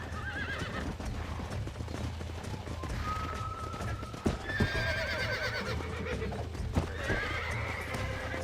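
A horse in Red Dead Redemption neighs and whinnies again and again while it bucks, its hooves clattering beneath the cries as other game sounds continue behind.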